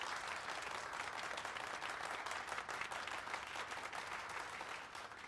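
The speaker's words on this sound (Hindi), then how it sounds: "प्लीज इनका स्वागत तालियों से करो" A classroom of students applauds to welcome a new postgraduate teaching assistant, with dense, even clapping from many hands that holds steady at moderate volume and eases slightly at the end.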